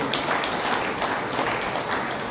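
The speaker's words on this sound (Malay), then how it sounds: "Satu tepukan gemuruh juga kita berikan" A brief burst of dense applause from a large crowd at a public servants' assembly in Perak, Malaysia, a continuous wash of many hands clapping.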